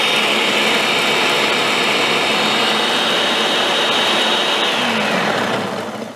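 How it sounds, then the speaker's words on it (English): A blender grinds a batch of about twenty Warheads sour candies, a loud, continuous high-pitched motor whir with a gritty rattle that holds steady before winding down at the very end. "Got 20 in here. Into the blender they go."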